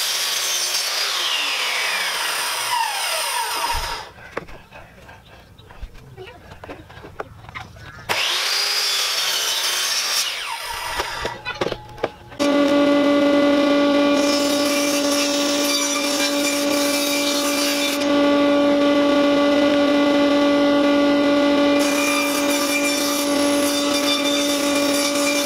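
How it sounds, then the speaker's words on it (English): A power saw cuts a 5-degree taper into glued-up pallet wood boards, with a loud, steady grinding whine through long passes, brief pauses between cuts, then a sustained, even run. "we need to cut those panels down so there's a 5-degree taper in each board"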